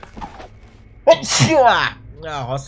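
A single sharp sneeze bursts out close to the microphone during a German Voidtrain gaming session, with a person talking briefly before and after it.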